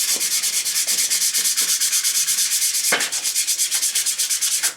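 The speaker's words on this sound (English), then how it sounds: "A little bit of 240 grit, dry, just to make a key." A motorcycle bash plate is dry sanded by hand with 240 grit paper, a loud, close rasping scrub in fast, even back-and-forth strokes with no voices.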